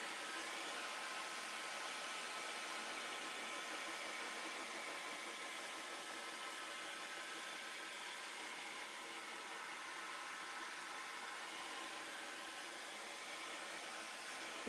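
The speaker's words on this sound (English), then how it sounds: "You can use a heat gun like I do." A heat gun blows with a steady, even whooshing hiss, running continuously at moderate volume with no pauses or voices.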